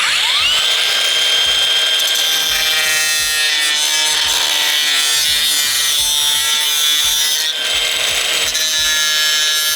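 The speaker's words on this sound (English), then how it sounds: "I'm just going to cut this off with my grinder really quick" Angle grinder cutting off a part of a Boost Auto tow mirror camera mount, a loud, steady high-pitched whine with scraping grind running the whole time, close and continuous with a brief dip near the end.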